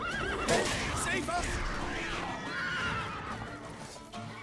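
A horse in The Witcher 3 whinnies repeatedly and loudly with hooves clattering in a chaotic scene, while a voice shouts over it.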